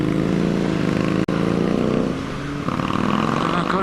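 A Honda Street 500 motorcycle engine hums steadily at close range during a test ride, a continuous low throbbing drone with a brief sharp click partway through, then a shift in engine note near the end.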